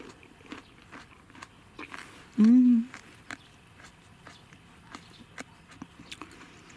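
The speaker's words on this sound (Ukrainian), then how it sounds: "я зараз похрумкачу прямо на камеру, щоб ви чули цей хрумкіт." Grapes crunched between the teeth close to the mic, a run of sharp crisp bites and chewing clicks spread through, with one short hum or voiced sound in the middle.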